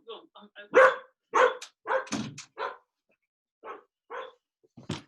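A pet dog barks in a series of sharp, close barks, several in quick bursts with short pauses between them and no speech over them.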